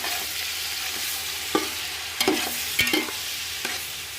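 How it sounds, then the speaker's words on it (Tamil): Onions sauté in a pan with a soft sizzle beneath a few sharp scrapes and knocks of a spatula stirring them, close and without voices. "வெங்காயம் வதங்கிறதுக்கு நல்லா டைம் கொடுக்கலாம், வதங்கட்டும்."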